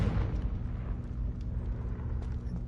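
A Confringo blasting curse goes off in a Harry Potter video game as a dull, rumbling explosion. The low roar is strongest at the start and keeps grumbling at moderate level for a few seconds.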